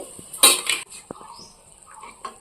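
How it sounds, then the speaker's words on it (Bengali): A lid is lifted off a cooking pot of boiling jackfruit and potatoes, with a sharp metallic clank up close, followed by a few softer clinks and scrapes. "আমি ঢাকা খুলে দেখছি কেমন সিদ্ধ হয়েছে"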